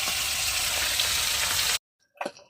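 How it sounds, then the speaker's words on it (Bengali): Whole small river chanda fish fry in hot oil with a loud, even crackling sizzle, which cuts off abruptly and gives way to a brief clatter. "মাছগুলো আমি ভালো করে ভেজে নিয়েছি"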